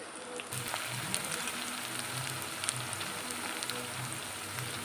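Onions with fennel, cardamom, cinnamon, star anise and cloves fry in a pan for pepper chicken masala, giving a steady close sizzle and crackle with scattered spitting pops and no talking.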